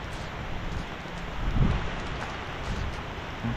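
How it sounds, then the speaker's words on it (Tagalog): Heavy typhoon rain pours steadily over a farm, a dense broadband wash with low rumbling swells and one louder gust-like surge midway, no voices. "lakas na po mga ka-farmer ang ulan,"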